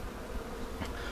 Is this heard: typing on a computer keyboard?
no